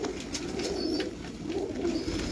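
Domestic pigeons at a Lahore loft give a continuous low cooing, several birds overlapping in soft rolling phrases, near and fairly loud.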